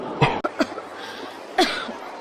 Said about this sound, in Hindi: 2 दिन से वो बहुत खांस रही है।